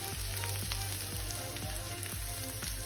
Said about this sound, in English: And I'm frying again.